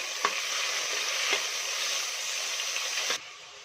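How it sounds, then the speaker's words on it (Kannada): Sliced onion and a large sliced tomato frying in a pan for avarekalu pulav: a close, even sizzle with a few light stirring taps, cutting off abruptly near the end. "ಒಂದು ದೊಡ್ಡ ಸೈಜು ಟೊಮೊಟೊನ ಅದನ್ನು ಕೂಡ ಸ್ಲೈಸಾಗಿ ಕಟ್ ಮಾಡ್ಕೊಂಡಿದ್ದೀನಿ ಇವಾಗ ಚೆನ್ನಾಗಿ ಫ್ರೈ ಮಾಡ್ಕೊಳ್ಳೋಣ"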